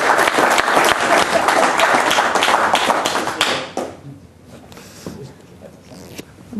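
Audience applause at a magic lecture, a full round of clapping for several seconds that tapers off into quiet room sounds.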